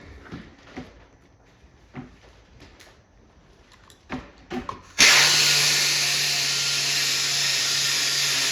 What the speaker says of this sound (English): Let's just get right into sanding this.